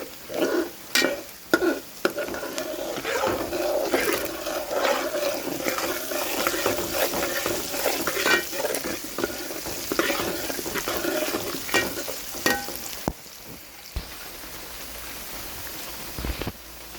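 Dried red chillies and curry leaves sizzle and crackle in hot oil in a frying pan for upma. The frying is steady and close, with scattered sharp pops and a few stirring scrapes.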